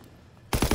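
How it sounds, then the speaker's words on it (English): A burst of automatic weapon fire in Call of Duty: WW2, several rapid loud shots cracking in quick succession after a brief quiet lead-in. "Finally, a decent automatic weapon"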